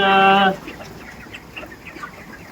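Chickens in a poultry shed on a farm give one loud, drawn-out call up close, followed by a scatter of faint, soft clucks and chirps over low background noise.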